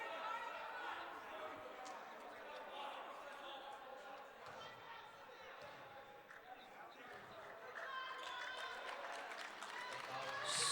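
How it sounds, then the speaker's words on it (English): A crowd in a college men's basketball gym applauds a player fouling out of the game, with steady clapping and chatter that swells toward the end under a commentator's voice. "So Bradshaw gets a nice hand, though, from this crowd for his performance today."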